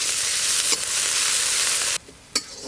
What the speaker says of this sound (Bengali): সর্ষের তেল, 2টো শুকনো লঙ্কা আর দেবো পেঁয়াজ কুচি।